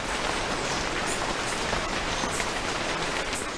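Steady, dense rain falling on forest vegetation at a restored agroforestry farm, a continuous close hiss with no pauses and no voices.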